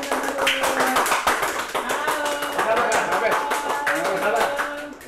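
Clapping greets candidates being called up at an Indonesian congress event, steady hand claps under overlapping voices and background talk.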